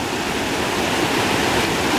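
The Sipsey River in the Sipsey Wilderness runs at flood stage after heavy rain, its rapids producing a loud, steady, broadband rushing roar that is close and continuous, with no voices.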